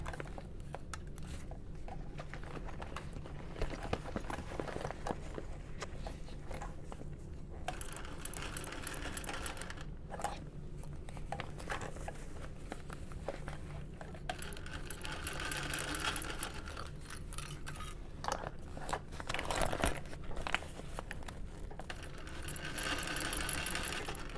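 A sewing machine stitches a bucket bag, a steady close whirring hum of needle strokes that runs almost nonstop with a few brief pauses, no talk.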